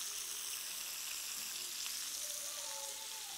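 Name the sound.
meatballs sizzling in a frying pan as they are flipped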